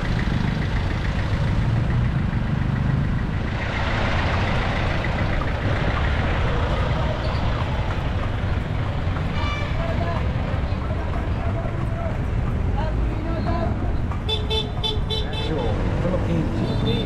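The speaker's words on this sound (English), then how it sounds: "what typical traffic looks like here in Manila" Busy street traffic in Manila, Philippines, with engines idling and rumbling close by, horn toots and passing vehicles, and faint hoof clip-clops, continuous and moderately loud throughout.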